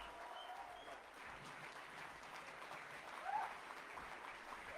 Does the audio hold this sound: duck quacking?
no